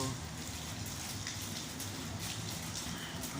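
Continuous heavy morning rain pouring down in Santa Cruz, Manila, a dense even hiss with drops spattering on surfaces, no voices.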